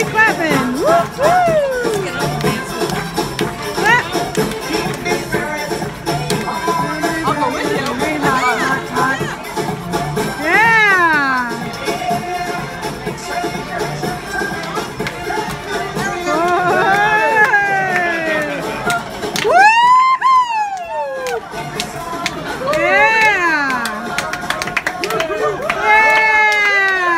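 A cruise ship audience whoops and cheers with rising shouts, a dense crowd of overlapping voices filling the room, punctuated by loud cries near the end.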